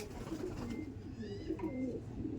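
High-flying Teddy pigeons coo in low, soft repeated calls close by over a steady murmur of background noise.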